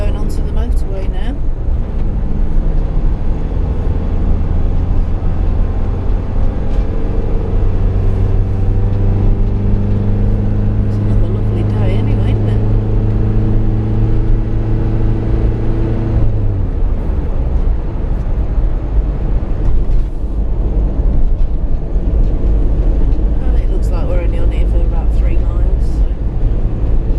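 A car cruising onto a motorway in the Netherlands, with a steady low road and engine drone throughout and people talking over it inside the cabin.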